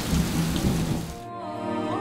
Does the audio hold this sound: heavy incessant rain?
yes